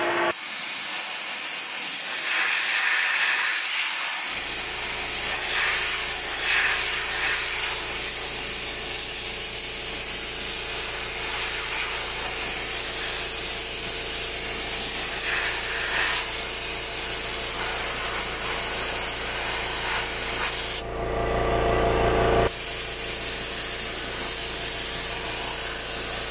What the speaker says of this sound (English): I'm going to take my compressed air and I'm gonna blow this off